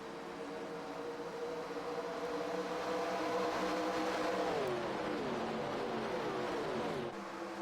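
Race cars battling for the lead in the iRacing simulator, a continuous loud engine drone with layered revving tones that climb and then drop as gears shift, held steady for several seconds.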